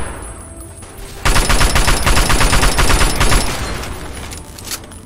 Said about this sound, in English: Thought I heard lasers for a second there